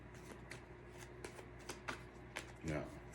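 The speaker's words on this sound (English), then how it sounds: "I'm not done shuffling yet. I want to shuffle more." Tarot cards are shuffled in a quiet room with soft repeated riffling and slapping, a few distinct snaps, and a scrape at the end.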